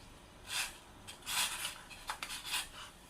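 Strawberry jelly powder being poured and stirred with a spoon in a bowl, a few soft scraping and rubbing swishes with light metallic clinks, close and quiet, no talking.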